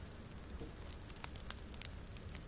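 Steady rain falls in the open world of DayZ on the Livonia map, a dense, even hiss with soft scattered patter, heard alone at a constant low level.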